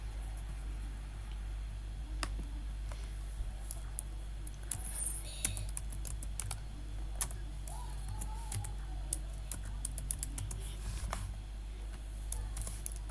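Scattered keystrokes of code being typed on a computer keyboard, irregular faint clicks and taps over a steady low hum, with no talking.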